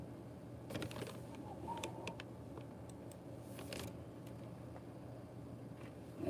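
Faint scattered key clicks from typing on a computer keyboard, irregular light taps over a quiet room hum.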